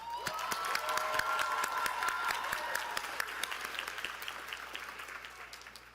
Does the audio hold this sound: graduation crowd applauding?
yes